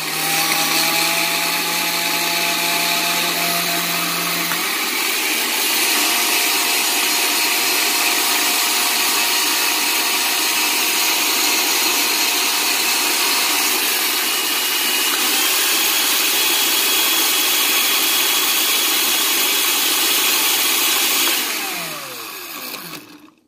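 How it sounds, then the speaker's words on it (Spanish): A blender runs steadily and loudly for about 22 seconds, whirring through orange and other ingredients for a homemade night serum, with the pitch shifting slightly early on before the motor winds down at the end. "Y entonces ahora la vamos a licuar también."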